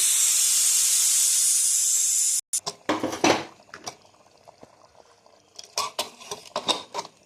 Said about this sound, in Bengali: গ্যাস বন্ধ করে দিয়েছি, সিটির হাওয়াটা বের করে নিই।